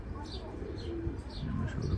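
A pigeon coos softly and close by while being held and handled, with someone talking over it the whole time.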